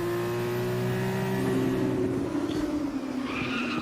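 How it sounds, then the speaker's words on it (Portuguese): Formula 2 race car tyres screeching under hard braking at the Abu Dhabi Grand Prix, a sustained high tonal squeal over a loud engine drone, shifting in pitch toward the end. "Você ouviu até o barulho da fritada de pneus, freou tudo"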